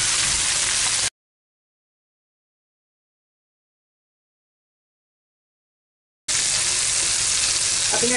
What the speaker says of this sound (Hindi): इसे फ्राई करने में 6 से 7 मिनट लगेगा।